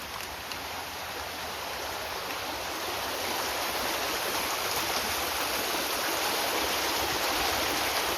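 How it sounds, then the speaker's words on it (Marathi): Stream water in a village flows strongly, producing a steady, close, full rushing wash that swells slightly over the clip, with no voices. "छान वाहतं पाणी."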